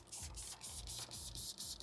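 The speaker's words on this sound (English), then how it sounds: "We're going to spray underneath." Slip solution is sprayed under paint protection film on a Nissan Patrol Y62 door jamb, in a quick series of about seven short, hissing bursts that are close but fairly soft.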